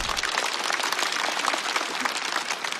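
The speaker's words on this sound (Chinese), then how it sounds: "再次掌声送给 TZ" Audience applause at a Chinese stand-up comedy show, a steady wash of many hands clapping that holds evenly throughout with no voices over it.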